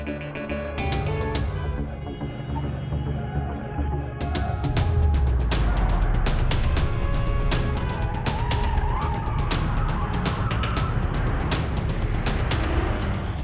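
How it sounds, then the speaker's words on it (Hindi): A car races at speed during a chase, its engine roaring continuously over dense, loud action-scene sound with bursts of screeching and impacts, no talking. "तुम गाड़ी की स्पीड बढ़ाओ"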